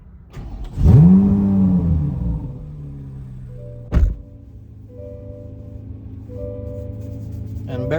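A car fitted with a Soler Performance electronic throttle controller sets off on a test drive: the engine revs up loudly, a solid thunk follows, then a steady lower engine hum carries on.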